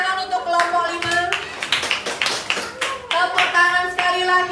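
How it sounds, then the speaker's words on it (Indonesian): Children in a classroom clapping their hands together for a group of classmates: loud, close, fairly rhythmic bursts of clapping, with children's voices and chatter mixed in between the claps. "Tepuk tangan untuk kelompok 5."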